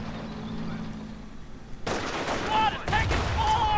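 Heavy machine gun fire in a WWII strategy video game, with Panzergrenadiers advancing across open ground, breaks out after a quiet stretch as dense bursts of rapid shots that keep going to the end, beneath a battle din.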